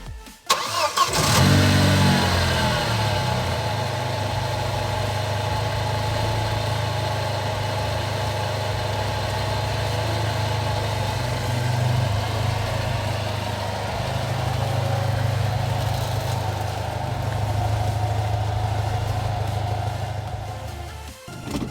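Engine of an Audi A4 B6 Avant starting and then running at a steady idle, a close, even mid-pitched hum that holds for about twenty seconds with slight swells and no talk.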